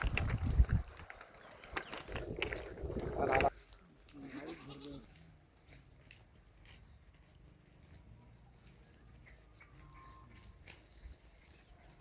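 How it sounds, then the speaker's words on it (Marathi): A herd of goats wades through water on a farm, with a burst of close splashing and rustling at the start, then quieter movement and faint bleats, while someone talks at times. "पाण्यातनं शेळ्या आमच्या पुढं चालल्यात"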